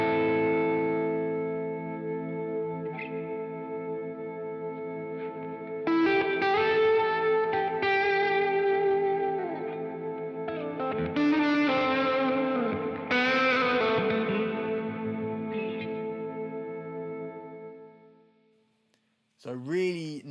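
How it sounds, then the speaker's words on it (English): Electric guitar through a TC Electronic Infinite Mini reverb freeze pedal in a live rig: sustained chords hang as a held reverb wash while new notes ring over them, then the sound fades to near silence before a brief final strum. "It's essentially a freezer pedal, very similar to the EHX Freeze, except it's much more focused on the reverb that gets sustained."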